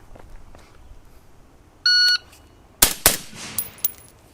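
Two sharp, loud suppressed rifle shots fired from a rifle fitted with a Brownells lightweight bolt carrier group, the second cracking close after the first, followed by a few quieter clacks; an electronic beep sounds alone just before.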